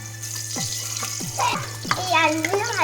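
Potatoes frying in hot oil in a pan for chicken curry, a steady sizzle broken by several scraping stirs of a spatula, close and fairly loud.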